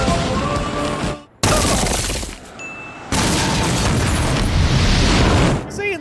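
A cartoon explosion in The Simpsons that destroys 37 restaurants: loud, dense crashing bursts with shattering and rumbling, broken by brief drops, under a busy soundtrack.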